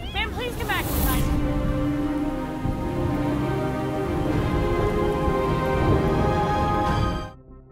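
Rain pouring outside a police station in a zombie film, heard as a continuous wash of falling water beneath sustained musical tones, fading out at the very end.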